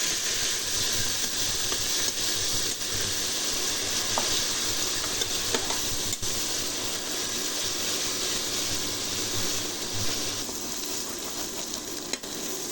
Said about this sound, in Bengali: এবার এটা মশলাগুলো আমি ভালো করে কষিয়ে